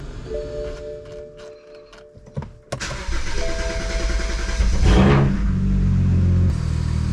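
After a quiet moment, a BMW 335 car's N54 engine cranks and catches after a valve cover gasket change, then settles into a steady, loud idle close by.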